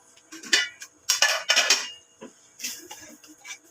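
A utensil stirs food in a cooking pot of vegetables and meat, making a run of close metallic scrapes and clinks in uneven bursts, with no talking.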